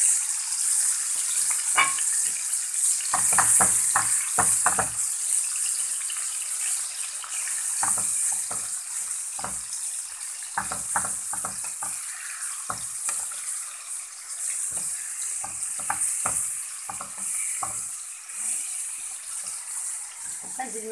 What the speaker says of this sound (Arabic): اللحمة معاكم اهي، نزلت بالزيت، لازم الزيت يسخن كويس